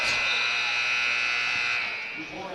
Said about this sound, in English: Trying to get a Gonzalez for the buzzer.